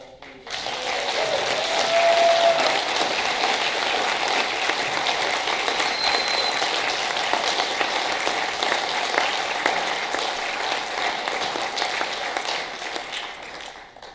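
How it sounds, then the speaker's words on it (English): An audience claps steadily at the close of a 2018 NRCC congressional district debate, the applause swelling quickly, holding dense and even for over ten seconds, then thinning out near the end. "A round of applause, please."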